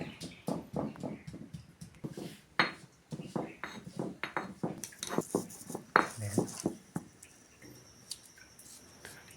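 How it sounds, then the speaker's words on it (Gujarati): Garlic cloves and red chilli powder are pounded in a stone mortar with a pestle in a Gujarati village kitchen. Close, fairly quiet knocks and clinks come in an uneven rhythm, some strikes louder than others. "અને લસોટી લઈશું"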